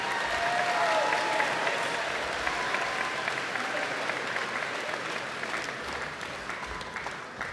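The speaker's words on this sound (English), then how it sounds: "One last round of applause before we get going." A crowd at the 2026 Pathfinder Tech graduation ceremony gives the graduates a final round of applause, a sustained, even roar of many hands clapping that eases slightly toward the end.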